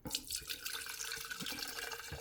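Isopropyl alcohol being poured into a Stundenglass gravity infuser glass gives a soft, continuous splashing trickle, quiet and close, for a couple of seconds.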